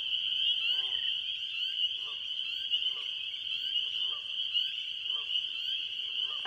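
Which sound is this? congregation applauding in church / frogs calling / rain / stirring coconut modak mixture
frogs calling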